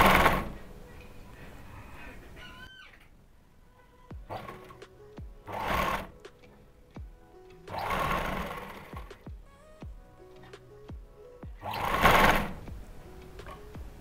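A sewing machine stitches the belt of a Patiala salwar in several short whirring bursts separated by pauses, with small clicks and fabric handling nearby.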